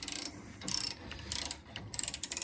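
A ratchet wrench clicks in quick bursts as 19 mm nuts are tightened on the underside of a 1980s Toyota Hilux pickup, with four short runs of close, fairly quiet ratcheting separated by brief pauses.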